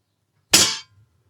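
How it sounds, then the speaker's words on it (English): Kalibrgun Cricket 2 air rifle in UK spec fires once downrange, giving a sharp, loud metallic crack with a ringing hammer-spring twang that dies away within a fraction of a second. A faint rattle follows. "firing the rifle downrange, you do hear a fair amount of twang from the hammer spring"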